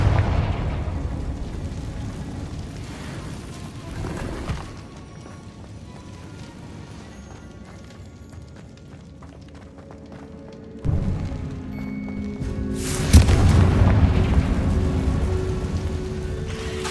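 Blasting-spell explosions from the video game Hogwarts Legacy, a sudden loud burst breaking through steady rain-like ambience, with a second heavier blast rumbling near the end.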